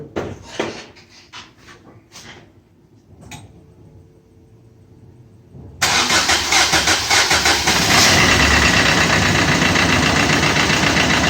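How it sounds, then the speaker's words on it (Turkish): A Fiat Multijet diesel engine runs rough with vibration: quiet clicks and a low hum, then the engine starts abruptly and holds a loud, close, uneven rumbling idle. "Motor bu şekilde çalışıyor. Sarsıntılı, vibrasyonlu çalışıyor."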